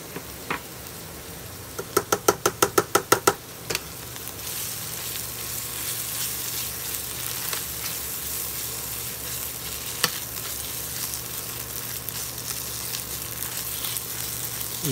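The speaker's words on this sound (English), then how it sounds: "We fry tomato paste a little bit." Tomato paste frying in a pan, a steady loud sizzle after a quick run of spoon knocks against the pan, with a few further scrapes and clinks.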